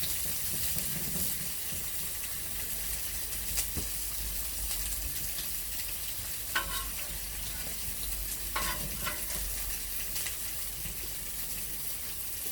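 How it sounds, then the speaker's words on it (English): A chicken grilled cheese sandwich toasting in a pan sizzles steadily and up close, a continuous bright frying hiss with a few faint clicks and scrapes over it. "we'll toast the one side and then do the other on a little bit higher heat"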